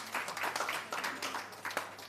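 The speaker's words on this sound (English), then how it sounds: "Please give him another round of applause." An audience at a post-State of the Province business breakfast gives a round of scattered, light applause, individual claps audible rather than a dense roar, fading out after about two seconds.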